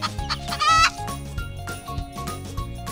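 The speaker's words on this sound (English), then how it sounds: "hen," A hen clucks in a short burst of repeated calls over a steady musical backing, fairly close and clear.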